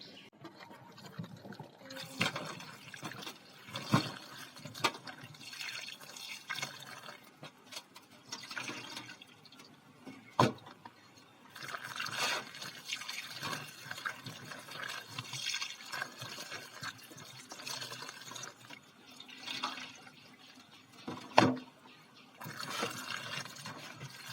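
Tap water runs and splashes while freshly chopped vegetables are rinsed for a breakfast of mashed bhorta dishes, a steady mid-level wash with brief louder splashes and clinks.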